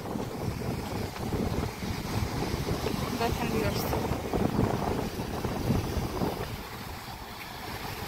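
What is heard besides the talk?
large sea waves on the seashore with wind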